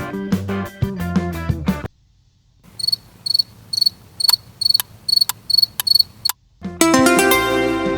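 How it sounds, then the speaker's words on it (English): A cricket chirps by rubbing its wings together, giving a run of about a dozen evenly spaced, sharp, high trills between brief passages of music. "the cricket chirps by rubbing its wings together"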